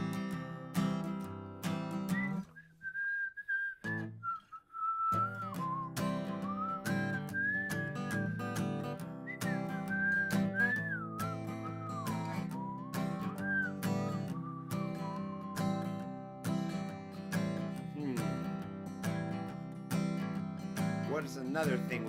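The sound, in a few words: people whistling a tune together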